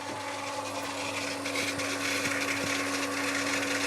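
Inside a bus being converted into a camper van, a water pump runs with a steady electric hum and whine while a tank fills, constant and close, with faint rasping rattles over it.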